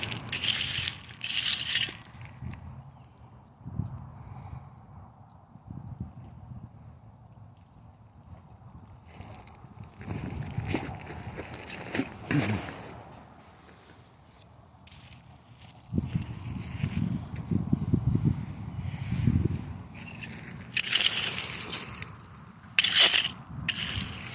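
A rake scrapes and crunches through river gravel and rocks on a Clackamas River slough, coming in repeated rough bursts near the microphone, with wind and water noise between the strokes.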